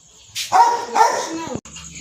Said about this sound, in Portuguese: Meu cachorro não para a boquinha.